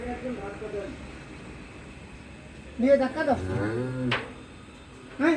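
A large Friesian dairy cow moos with a long, low, drawn-out call, with people talking nearby before and around it.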